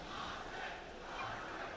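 A large arena crowd at The International esports event roars in a sustained, distant wash of cheering and shouting, with no clear individual voices.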